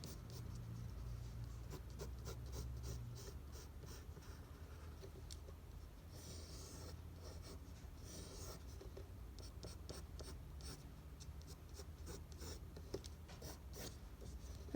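Pen scratching out a word on paper in quick close strokes, a light rhythmic scribbling with brief pauses between letters, quiet and with no voices.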